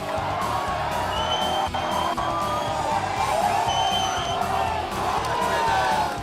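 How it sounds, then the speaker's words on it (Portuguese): Chapecoense football supporters roar and cheer after a Bruno Matias goal, a dense crowd of whoops and shouts filling the stadium continuously. "O gol de Bruno Matias levou o torcedor da Chape ao delírio."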